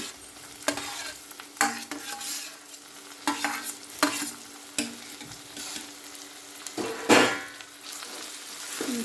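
Onion and tomato fry in a pan for a mushroom gravy while a spatula stirs. A continuous sizzle is broken by repeated scraping strokes at a loose, irregular rhythm, close and clear, with no voices.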